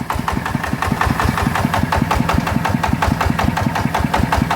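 A tuned 150cc motorcycle engine (up150) runs steadily, loud and close, with rapid, even firing pulses throughout and no talking.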